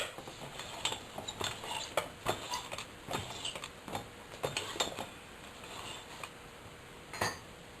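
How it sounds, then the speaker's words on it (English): A wrench loosening metal parts on a mini woodstove makes a scattered series of sharp metallic clicks and clinks, close and fairly quiet, with short pauses between the taps. "Now, put the wrench back on here."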